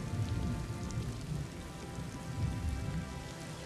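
Rain falls steadily in the Shenandoah mountains, a dense, even patter of drops on surfaces that holds at a constant level throughout, with no voices.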